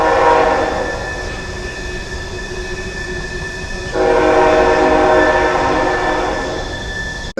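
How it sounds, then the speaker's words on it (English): A loud train rolls past a campground, its horn sounding in long sustained tones while the cars rumble by, the noise swelling partway through and cutting off abruptly at the end. "there's a train goes through here every hour"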